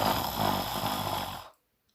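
A single loud, rough snore lasts about a second and a half and then cuts off abruptly into silence.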